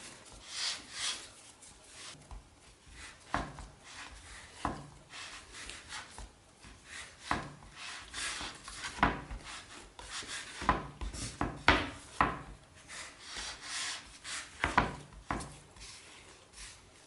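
Cinnamon roll dough roughly kneaded by hand, heard as soft repeated pressing, rubbing and thumping strokes in an uneven rhythm, close and quiet with no voices.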